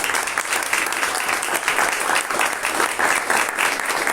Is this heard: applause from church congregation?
yes